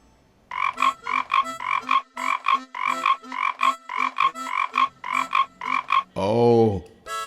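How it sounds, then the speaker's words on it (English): Frogs croaking near a pond, a rapid series of loud, close rhythmic croaks in steady pulses, ending with a longer drawn-out call. "that noise must be of frogs croaking"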